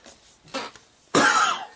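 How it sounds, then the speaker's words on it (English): A single person coughs once, close and loud, after a quieter throat-clearing sound, with no speech. "If I do cough, I do apologize."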